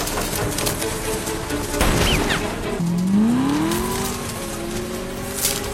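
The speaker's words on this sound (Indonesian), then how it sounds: "Ray kembali muncul menggunakan sebuah mobil Chevrolet Camaro" A Chevrolet Camaro speeding through a film car chase near a cornfield, its engine revving and rising in pitch as it accelerates, with a loud steady roar and a brief tire squeal.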